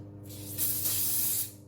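A can of release spray hisses in one steady burst lasting about a second, coating small panna cotta–style cake molds at close range, with a soft lead-in and tail around the spray.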